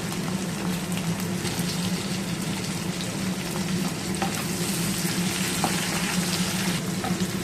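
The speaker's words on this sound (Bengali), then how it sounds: "পেঁয়াজটাকে একটু লাল লাল করে ভেজে নেব।" Chopped onion fries in a pan of hot oil for a tilapia and potato dish, a steady close sizzle with occasional light crackles and faint stirring, no voices.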